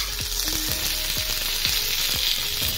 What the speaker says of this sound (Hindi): मीडियम टू हाई फ्लेम पे से हम लाल करके चारों तरफ से निकाल लेंगे